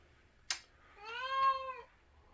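A house cat in a kitchen gives a single drawn-out meow, clear and close, just after a sharp clack, with quiet background otherwise.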